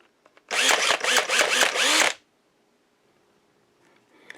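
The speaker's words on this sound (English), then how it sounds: "Now you want to do a precision machining operation here to make sure you get that hole for the bushing square, center, and to size." Precision machining of a square bushing hole on a 1998 XC 600 snowmobile in a grass drag build: a loud, close, pulsing power-tool whir lasting about a second and a half, followed by near silence.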